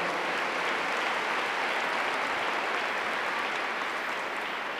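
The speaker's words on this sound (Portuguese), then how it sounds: "Vamos aplaudir a palavra do Senhor?" A church congregation applauds in a steady, dense stretch of clapping that holds evenly throughout with no voices over it.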